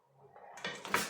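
A spoon scrapes and clinks against a cooking pot while crushed tomatoes are stirred in, a short soft scraping that builds to a couple of brighter metallic knocks at the end.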